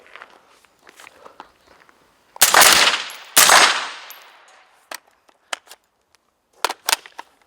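Gunfire from a Tinck Arms Perun X16 rifle rings out in two loud, close shots with ringing decay, followed by sharp clicks and knocks of handling.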